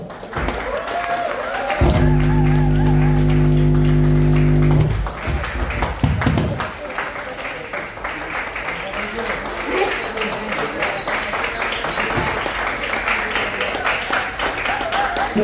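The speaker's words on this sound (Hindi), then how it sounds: "जोरदार ताली बजाओ।" Audience applause at a student award and medal ceremony, a loud burst of clapping that builds and continues, partly masked by a heavy low hum, with talk continuing alongside.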